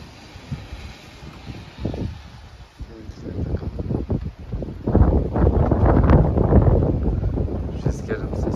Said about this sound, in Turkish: Rüzgarın sesi geliyordur.